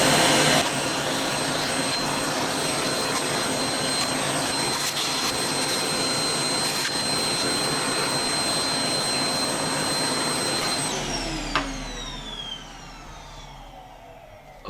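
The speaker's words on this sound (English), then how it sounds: "Put the hoover on." A hoover vacuum cleaner runs loudly and steadily nearby while a Dell XPS One A2010 computer is cleaned, its whine holding for several seconds before the motor winds down and fades.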